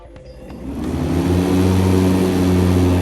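An EGO Z6 electric zero-turn mower in sport mode spins up from quiet to a steady, rising whine and hum, settling into a constant drone close by.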